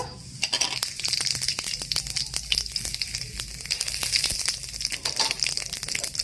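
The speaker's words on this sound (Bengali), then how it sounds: "তেল গরম হয়ে গেছে, এবার আমি ফোড়ন দেব।" Whole spices hit hot oil for a Bengali fish head and cabbage dish, giving close, continuous sizzling with sharp crackles and pops scattered throughout and no voices over it.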